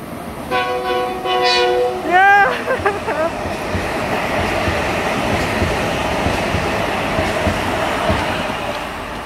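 A test subway train's horn blares in a couple of long blasts that bend in pitch at Valley Stream, followed by the loud continuous rumble of the train rolling past.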